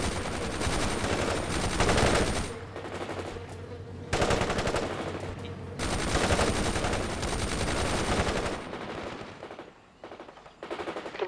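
Loud, sustained machine-gun fire and gunshots in the World in Conflict video game, dense bursts with brief lulls near the middle, continuing almost without pause.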